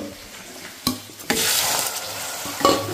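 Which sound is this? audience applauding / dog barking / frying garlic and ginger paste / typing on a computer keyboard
frying garlic and ginger paste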